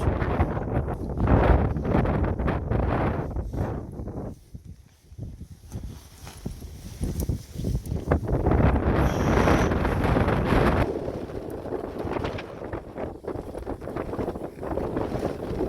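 Wind at a lakeside wild camp by Easedale Tarn, gusting loudly across the microphone in heavy broadband rushes that ease briefly, then build again, close and continuous.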